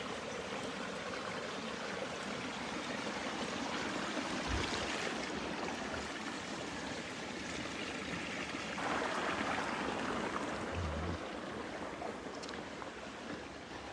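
Creek water flows in a faint, steady wash and trickle outdoors, continuous throughout with no talking.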